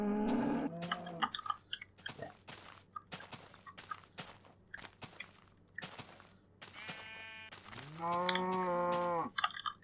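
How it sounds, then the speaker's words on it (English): A Minecraft cow lets out a long, drawn-out moo at the start and another near the end, with scattered clicks and soft thumps from the game in between. "And it is a cow."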